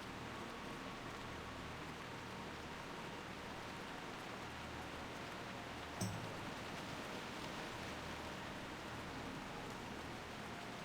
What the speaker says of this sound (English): You could definitely ASMR this rain